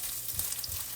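Ground meat browning in a hot pan for street tacos: a soft, close sizzle and crackle with light stirring scrapes, quiet and brief.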